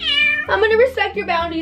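A house cat meows insistently indoors, a couple of close, loud, drawn-out cries overlapping someone speaking.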